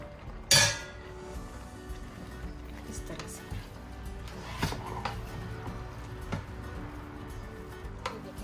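Spaghetti is stirred into a thick cream sauce with chicken in a pan, with a sharp utensil clink at the start, then quieter scrapes and light taps continuing at low volume.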